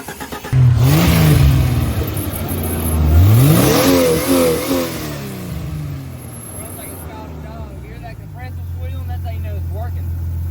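An off-road side-by-side engine with crossed plug wires cranks and catches, then revs hard several times with rising and falling whine, settling into a low rumbling idle; people talk over it.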